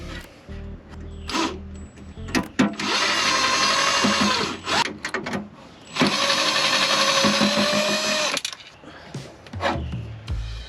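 A power drill backs screws out of a panel inside a camper van, whirring in two sustained bursts of about two seconds each, close and loud, with clicks and handling knocks between them.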